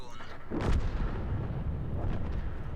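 A tank gun fires once in the video game World of Tanks, a loud close boom with a long rumbling tail, followed by a fainter second report and ongoing engine rumble.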